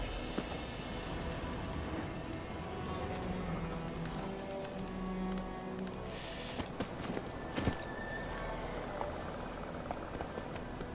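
Geralt's horse Roach running in The Witcher 3: Wild Hunt, a faint, fast patter of hooves under a steady wash of ambient noise, with a few louder knocks near the end and no talking.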